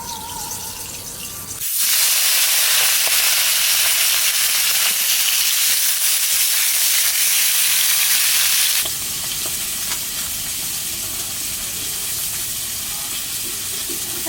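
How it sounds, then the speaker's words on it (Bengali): Oil hits a hot wok (kadai) and erupts into a loud, dense sizzle at about two seconds, holding steady, then settling to a softer continuous frying hiss for the rest, with no talk; prepared for cooking hilsa fish head with Malabar spinach. "কড়াই গরম হয়ে গেছে, আহানে তেল দিয়ে দেবো"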